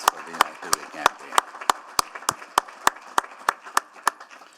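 Applause ripples through the City of Edmonton council chamber as a run of sharp, evenly spaced claps sounds over a low murmur of voices.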